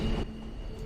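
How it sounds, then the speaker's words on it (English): Train noise from the TV drama Mr. Robot, a steady low rumble with a sustained hum, a slightly louder onset at the start and no talking. "Love the noise of trains."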